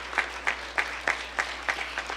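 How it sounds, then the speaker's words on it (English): Applause from an audience at the Raseshwari Radha Rani Temple during a live cultural program, heard as a steady round of clapping with regular sharp peaks, moderately loud and without voices. "A round of applause for them and all the other devotees"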